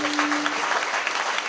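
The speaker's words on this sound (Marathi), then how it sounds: "पुन्हा एकदा श्याम बाबा मित्रमंडळासाठी एकदा जोरदार टाळ्या वाजवा" Applause at a village kirtan gathering for the Shyam Baba friends group sounds as a brisk, steady patter of many hands clapping, filling the whole short stretch without any talk over it.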